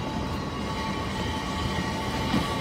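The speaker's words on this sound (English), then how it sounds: "That railway car." The Court Flight funicular railway car in Los Angeles rumbles along its track with a steady, low mechanical drone and faint tonal whine, moderately near, with no talk.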